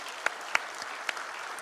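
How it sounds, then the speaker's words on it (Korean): Church congregation applauding newly retired deacons and elders at a Korean church retirement ceremony, a brief steady wash of clapping with a few sharper claps standing out. "큰 박수로 축복해 주시기 바랍니다"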